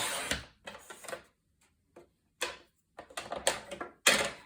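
Paper is scored at half an inch on a scoring board with a bone folder for a mini album, producing several sharp close scraping strokes in irregular bursts with brief pauses between them.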